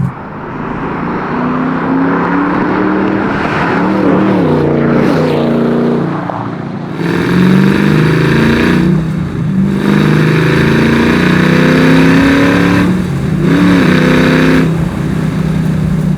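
A track-prepped Porsche 914 with a 525 whp LS7 V8 swap accelerates hard, its loud engine note climbing through the revs in rising sweeps, easing off briefly between pulls, heard from close inside the car.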